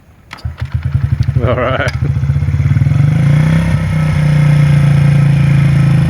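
A Honda XR50 small dirt bike is kick-started with a few quick kicks, catches and settles into a steady close idle that swells to a louder buzzing run, while a person speaks briefly over it.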